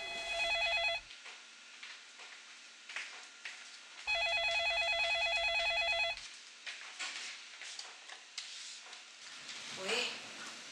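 An old-style telephone rings in two long electronic bursts separated by a pause, loud and near, with people talking between the rings.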